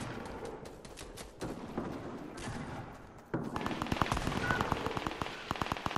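Gunfire in Fortnite: a sudden stretch of rapid, evenly spaced automatic shots cuts in partway through, loud and close, following quieter game ambience.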